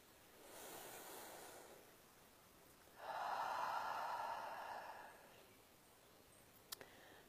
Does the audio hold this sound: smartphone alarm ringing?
no